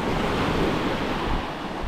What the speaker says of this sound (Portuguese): Um pouquinho de ondulação aqui, mas menos que na beira, mais lateralizado.